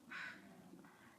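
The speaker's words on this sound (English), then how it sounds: "There's a crow in the background." A crow caws once, faint and distant in the background, a short harsh call early on followed by quieter outdoor ambience.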